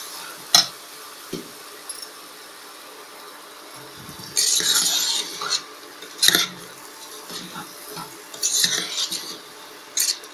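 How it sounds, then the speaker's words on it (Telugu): Rice stirred in a hot pan with a metal spoon, several scraping, clinking strokes in separate bursts with a faint sizzle underneath, close and moderately loud with no talking. "బియ్యం వేసి 1 నిమిషం దీన్ని వేగనివ్వాలి."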